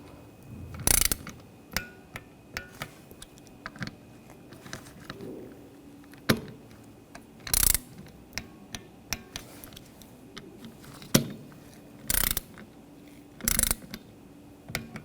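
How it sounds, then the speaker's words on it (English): Torque wrench tightening window regulator bolts on a 2007-2013 BMW X5, giving sharp ratcheting clicks in scattered bursts with a few louder snaps, close up and alone against a quiet background. "we'll torque these bolts to 52 inch-pounds"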